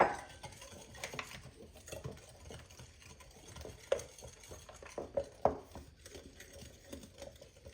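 Batter gets folded together with dry ingredients in a bowl, soft wet squishing strokes and occasional sharper knocks of the utensil against the bowl, irregular and close, with no talking.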